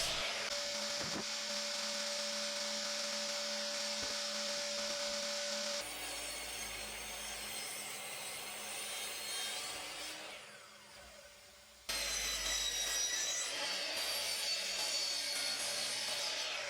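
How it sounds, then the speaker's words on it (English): A miter saw cross cuts plywood pieces in a small woodworking shop, with loud whining cuts separated by brief pauses as the blade spins down, and no talking. "I can take all the pieces now over to the miter saw to cross cut them to the proper length"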